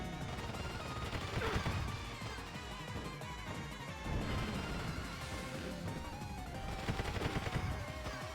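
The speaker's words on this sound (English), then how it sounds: "Do I get a machine gun?" Rapid machine-gun fire in a Mario Kart knockoff kart-racing game, dense crackling bursts mixed with crashes and busy game sounds, continuous and fairly loud throughout.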